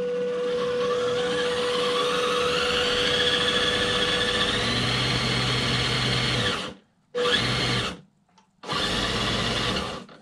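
A steady electric whine from the running motor and servo of a 1/7 scale RC Land Rover Defender 110 in low gear, continuous for several seconds, then cut into two short bursts separated by brief silences.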